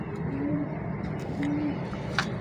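A Taddy golden kabootar pigeon gives soft low coos, two drawn-out calls close by over a steady background hum, with light clicks and faint chirps around them.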